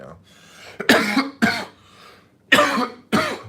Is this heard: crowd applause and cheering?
no